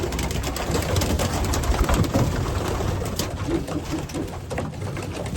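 Racing pigeons coo and murmur together inside a loft, a dense, continuous layer of soft throaty calls with light rustling, close and steady, no talking.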